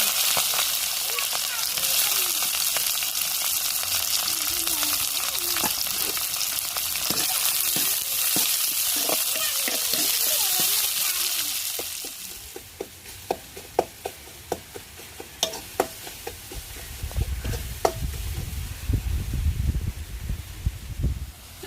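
Curry leaves, green chillies and chopped large onions hitting hot oil for a coconut milk egg gravy: loud continuous sizzling that settles into quieter crackles, pops and stirring clatter as the pan calms.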